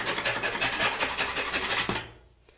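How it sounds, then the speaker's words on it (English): A tool scrapes crispy old paint off metal in rapid repeated rasping strokes, close and fairly loud, stopping abruptly near the end. "But this is how I would just scrape that."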